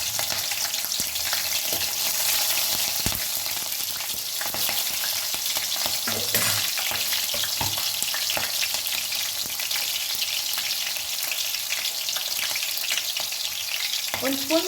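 Slit green chillies and whole cloves fry in hot oil for a spicy chicken liver fry, giving a steady, even sizzle that lasts throughout, with a few faint clinks of a spoon stirring.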